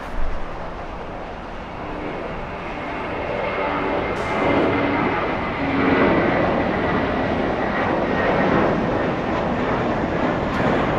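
JetBlue airliner at LAX, its jet engine roar a steady broadband rumble that swells slightly midway and holds at a constant, fairly loud level throughout, with no voices.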